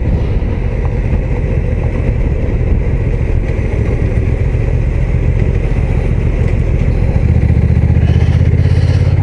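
Honda NT1100 DCT touring motorcycle engine running steadily at about 2200 rpm while riding, a constant low rumble with wind, growing heavier and louder near the end.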